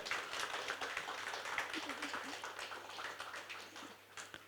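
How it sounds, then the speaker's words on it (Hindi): Audience at a book launch applauding as actor Ali Fazal is welcomed, a steady wash of many hands clapping at moderate distance that fades slightly toward the end. "मैं चाहूंगा जोरदार तालियों से स्वागत किया जाए।"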